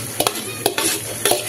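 Onion softens gently in a pan, with a few sharp scraping stirs of the utensil over a steady low sizzle, loud and close, no voices.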